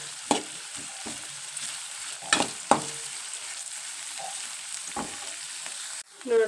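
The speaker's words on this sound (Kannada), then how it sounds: "ಇವನ್ನ ಎಣ್ಣೆಗಾನ ಒಂದು ಸ್ವಲ್ಪ ಫ್ರೈ ಆಗಲ್ರಿ." Onions frying in oil in a pan, a steady close sizzle broken by a few sharp stirring clicks and scrapes, with a louder clatter right at the end.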